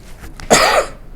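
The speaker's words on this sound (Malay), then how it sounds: "Ni batuk biasa." A single short, loud cough, a sharp burst lasting about a third of a second, heard alone with no talk.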